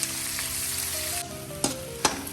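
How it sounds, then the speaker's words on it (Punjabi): Onions fry with cumin in a pan, a constant close sizzle that drops briefly, then a few sharp spoon knocks and scrapes against the pan, with no voices. "ਪਹਿਲਾਂ ਜੀਰਾ ਪਾਇਆ ਹੁਣ ਪਿਆਜ਼ ਪਾਏ ਆ"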